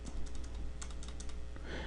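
Rapid keystrokes on a computer keyboard while entering a new budget amount in a web portal, a steady run of close, crisp clicks with no speech.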